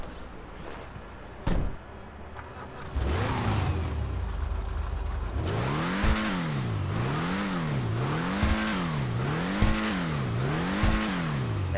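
A synthetic-sounding V8 engine of a Karin Hotring Everon in GTA 5 Online revs repeatedly in a steady rising-and-falling rhythm, loud and close, after a brief start-up rumble.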